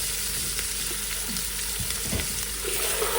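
Chicken pieces fry with onion in a pan, a loud steady sizzle broken by scraping, knocking stirs of a utensil.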